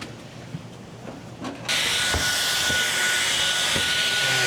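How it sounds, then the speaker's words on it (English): A vacuum cleaner switches on inside an RV partway through, jumping from a quieter room with a few knocks to a loud, steady whooshing roar that runs to the end. "Vacuuming."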